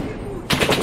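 Automatic rifle fire bursts out in the combat shooter Six Days in Fallujah during the Battle for Jolan Park, a loud, dense rattle that erupts suddenly over a rumbling battlefield background.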